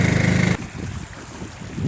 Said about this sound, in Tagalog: So ito ang unang beses ko dito sa Lake Victoria na ako mismo magdadrive ng bangka.